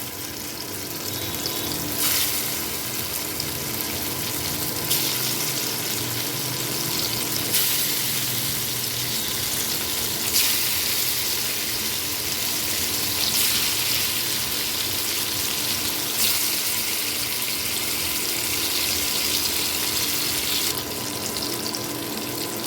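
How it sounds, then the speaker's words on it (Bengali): Lentil cakes (dhoka) frying in white oil in a frying pan give a steady, dense sizzle throughout, loud and close, with no talking. "এখন আমি এই ধোকাগুলোকে ভেজে নেব"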